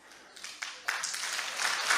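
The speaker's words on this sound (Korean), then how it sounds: "이걸 박수 치구나." Applause from an audience at a patriotic lecture in Daegu swells up after a quiet start, building into steady, moderately loud clapping that fills the hall for the rest of the moment.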